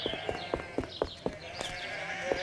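Sheep bleat repeatedly in short, steady calls, several animals close by, with a continuous hum in the background.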